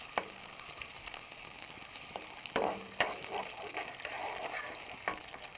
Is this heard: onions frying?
yes